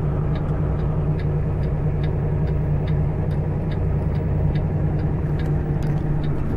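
A car idles or runs nearby on a street in Tijuana, giving a continuous low engine rumble with faint rhythmic ticking on top, steady and fairly close throughout, with no talking.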